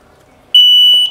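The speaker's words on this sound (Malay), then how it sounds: "dah detect, alarm pun dah bunyi" A smoke sensor alarm on a home freshwater lobster farm fogging and automation setup goes off after detecting smoke, a loud steady electronic beep tone that starts abruptly and holds for about half a second.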